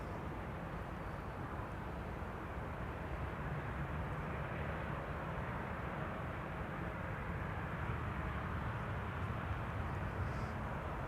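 An Airbus A320neo airliner, an EasyJet flight from Milan, arrives at Schiphol with a steady, broad jet roar that holds loud and even throughout, without talk.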